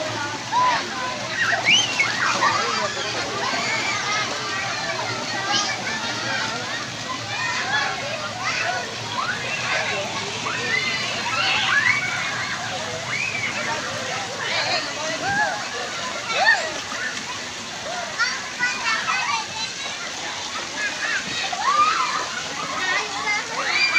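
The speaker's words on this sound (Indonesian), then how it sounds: "tuh kakak kamu lagi berenang" People swim and splash in a pool at a family villa, a steady wash of water noise with sloshes and splashes under loud, constant voices of adults and children.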